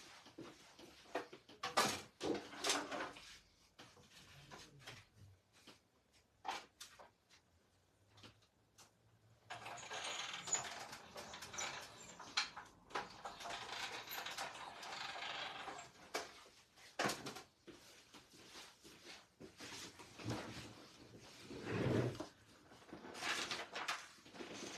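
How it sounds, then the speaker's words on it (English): A die cutting machine feeding a card through during papercraft: faint mechanical clicks and rattles, then a longer stretch of rumbling, grinding rolling with scattered knocks, fairly quiet and close. "Now I'm going to go over to my die cutting machine and I'm going to run that through like that."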